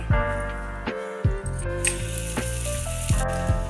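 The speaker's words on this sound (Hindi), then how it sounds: "तवा हमारा गर्म हो चुका है इस पर ऑयल लगाएंगे तवे को अच्छे से ग्रेस कर लेना है पराठे को तवे पे डाल लेंगे" A beetroot paratha sizzles and fries on an oiled hot griddle, a steady close crackle broken by a few clatters and bumps as it is handled, with no speech.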